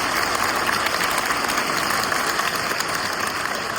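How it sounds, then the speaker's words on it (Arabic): A crowd applauds at the closing ceremony of a Ramadan volleyball tournament for teaching staff, producing a dense, constant wash of clapping that stays loud and even throughout. "تصفيق."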